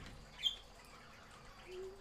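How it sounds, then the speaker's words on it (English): Birds chirp in the Stardew Valley video game: one short, high chirp stands out early, followed by a softer call, all faint over quiet background ambience with no talking. "I just want to make sure the birds are heard."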